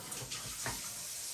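Water streams steadily from a Wewe kitchen faucet sprayer, a soft continuous hiss and spatter heard faintly and alone.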